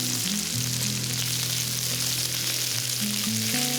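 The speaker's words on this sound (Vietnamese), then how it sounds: "Cho vào chảo một ít dầu ăn, rồi mình cho tỏi băm vào phi lên cho thơm. Sau đó thì mình cho hành tây vào xào sơ." Minced garlic and then onion sizzle steadily in cooking oil in a hot pan, a dense continuous frying hiss held close and even throughout, with soft background music beneath.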